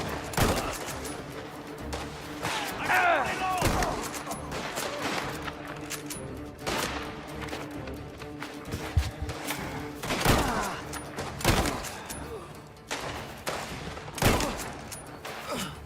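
Shotgun blasts and other gunfire from Mafia: The Old Country, heard as sharp, widely spaced booming shots over a busy game mix, with faint game voices underneath.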